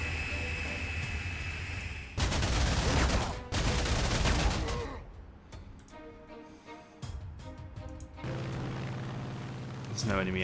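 Video-game gunfire as units shoot in the strategy game Panzer Corps 2, with loud bursts of gunfire and booming volleys, quieter stretches between them and someone talking over parts.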